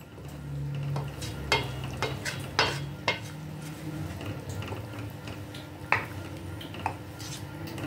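Green turkey berry curry simmering in a pan on a stove, a steady low bubbling sizzle with a few sharp clinks and stirring knocks scattered through, close and moderately loud, no talking.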